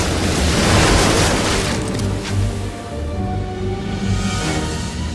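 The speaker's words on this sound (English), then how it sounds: "the stern was being broken up by the violence of the waves" Heavy sea waves pound and break against the stern of a grounded ship, a continuous loud roaring surge with deep rumbling swells and hissing spray throughout, no voices.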